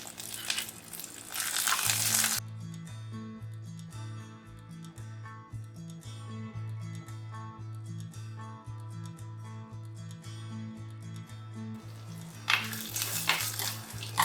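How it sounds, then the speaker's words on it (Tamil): Tamarind frying in hot oil in a cooking pan, a bright sizzling hiss swelling loud at the start and again near the end, with steady clinks and scraping of a utensil against the pan in between. "இப்போ எண்ணெயில் போட்டு பாருங்கள், நல்லா வறுத்துடணும்."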